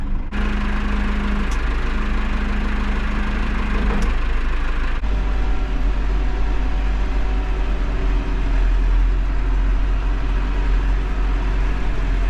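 A quiet tractor engine runs steadily at idle, a low continuous rumble close by that holds evenly throughout with no talking.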